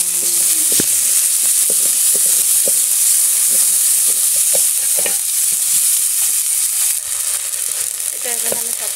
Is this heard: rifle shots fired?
no